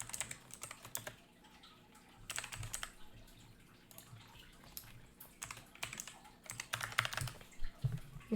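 Someone types on a computer keyboard, entering a username during account setup: irregular bursts of close, soft key clicks with short pauses between runs and no talking.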